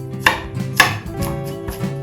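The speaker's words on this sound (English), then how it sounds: "I've got 3 cloves of garlic. We will be chopping them into little pieces" Knife chopping garlic cloves into small pieces on a cutting board, with several sharp, close chops spaced out and a faint steady background hum.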